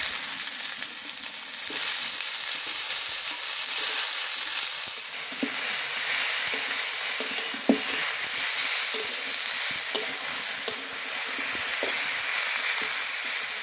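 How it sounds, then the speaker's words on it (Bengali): Bottle gourd greens sizzle steadily as they fry in a pan, following potato and brinjal, with a constant bright crackle and occasional soft clinks of a utensil, close and alone without talk. "সবজিটা ভালো করে ভাজা হয়ে গেছে"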